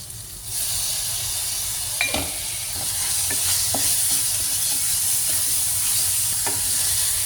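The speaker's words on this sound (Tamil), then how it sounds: "இஞ்சி பேஸ்ட் நல்லா பச்சை வாடை போகிற வரைக்கும் வதக்கிக்கோங்க." Ginger paste and onions are sautéed in a pan, giving a continuous hiss and sizzle after a quiet start, broken by a few light scrapes and taps of a spoon stirring.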